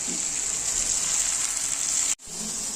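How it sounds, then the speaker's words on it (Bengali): Small mixed fish and spices fry in a pan with a loud, bright, continuous sizzle, cut off by a brief gap near the end before the hiss resumes. "এবার আমি এটাকে ভালো করে ফ্রাই করবো"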